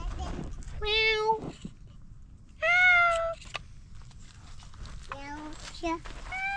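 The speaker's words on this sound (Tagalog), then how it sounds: "may pusa dun" A cat at the Strawberry Point recreation site on Lillooet Lake gives three or four clear, drawn-out meows, one loud and sustained, amid outdoor ambience with soft voices and a child nearby.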